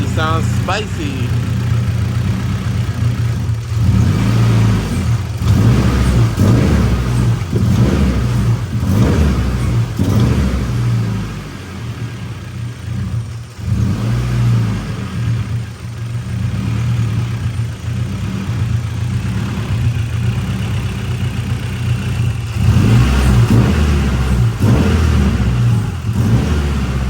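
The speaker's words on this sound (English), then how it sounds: "So let's see how the car sounds when I start it up." Car engine fitted with an added resonator exhaust, running and revving in repeated bursts that rise and fall over about half a minute, close and loud with a steady low rumble between revs.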